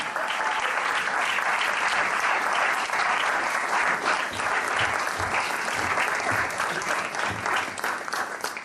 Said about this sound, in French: Et donc nous allons applaudir bien fort et encore plus fort que les autres